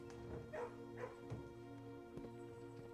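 A dog in the video game Blue Prince gives a few soft yips and short barks, spaced irregularly over a faint steady background hum, quiet and without talking.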